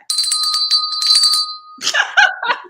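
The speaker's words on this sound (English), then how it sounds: "You want to know what this bell says on the back?" A small bell rings in a quick series of bright, sustained strikes for about a second and a half, loud and close, followed by laughter and voices.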